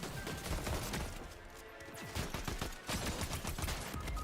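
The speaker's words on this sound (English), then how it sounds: "Careful, he has a shotgun." Shotgun fire in a multiplayer video game: loud, dense bursts of blasts and impacts that come in quick clusters, with a short lull in the middle and no talking.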